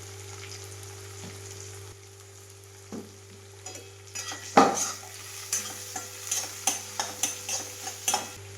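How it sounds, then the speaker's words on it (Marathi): Turmeric with a ginger, garlic and coconut paste frying in a hot tempering, sizzling steadily under a low hum while a spoon stirs with several sharp scrapes and clinks, no talking. "फोडणीमध्ये ना मी टाकलेली हळद ही आलं लसूण खोबऱ्याची जी पेस्ट बनवली होती ती टाकलेली आहे"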